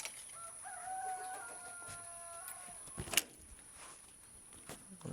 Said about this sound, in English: I'm here at the farm, that's why I hear a lot of chickens and animals in the background